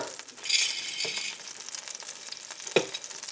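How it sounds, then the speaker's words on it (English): About a cup of onions sizzles in a heated pan, a bright, steady frying hiss with a few soft clinks and stirring sounds. "While our pan is heating up, I'm going to go ahead and put in my onions, about a cup,"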